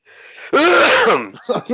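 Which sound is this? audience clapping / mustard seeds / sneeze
sneeze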